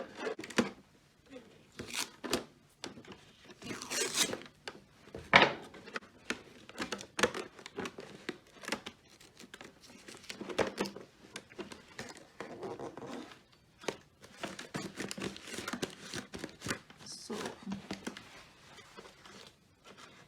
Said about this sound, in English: And then close the can, start taping it.